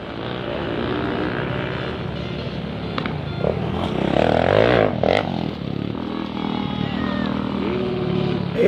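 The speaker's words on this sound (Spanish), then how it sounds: "El Nacho Díaz que sigue acelerando también" Motocross motorcycle accelerating on a race track at a motocross and ATV event in Vallenar, with a buzzing engine whine that rises and falls, loudest midway, heard under a commentator's continuous talk.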